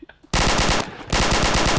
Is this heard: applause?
no